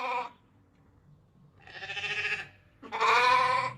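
Three loud, close bleats come one after another, the first short and the next two longer and quavering, with brief quiet gaps between them.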